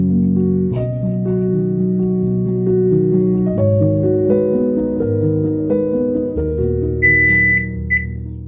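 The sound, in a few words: kitchen timer beeping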